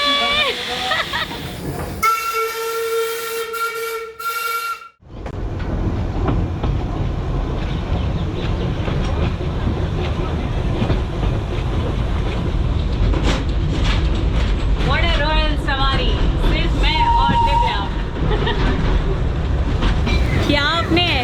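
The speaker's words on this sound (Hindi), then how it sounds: "वाह, हमारी ट्रेन चलने वाली है।" Heritage steam train from 2006 engine starts up on the Siliguri to Rangtong line: a loud whistle blast gives way to steady rumbling, hissing and clickety-clack of wagons on rails, with voices talking over it.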